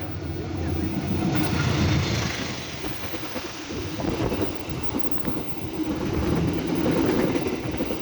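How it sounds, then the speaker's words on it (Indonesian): KA Serayu economy-class passenger train in Central Java passing on track 1, a continuous rumbling clatter of wheels and cars at moderate distance that swells and eases without a break. "teman-teman akan melintas di jalur 1 KA Serayu, tujuan stasiun Jakarta Pasar Senen"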